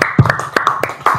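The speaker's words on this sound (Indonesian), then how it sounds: "Tepuk tangan dong." A few quick hand claps, about six sharp slaps in just over a second, close and fairly loud, with no talk over them.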